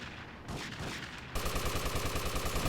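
Gunfire in a shooter video game match: dense, rapid automatic bursts, sparser at first, then a sudden louder, sustained stretch of rattling fire, close and continuous with no talking.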